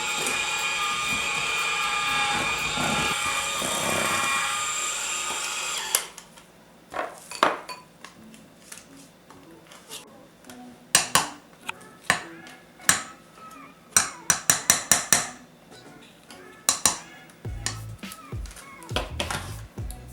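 An electric mixer whirs loudly as oatmeal is worked into oatmeal-raisin cookie dough, running steadily for about six seconds before stopping; sharp clinks and knocks of bowl and utensils follow.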